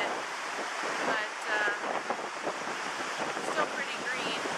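Fast-flowing water of the Yellowstone River rushing over the falls at the mouth of the canyon, a steady broadband roar with gusty wind buffeting the microphone throughout.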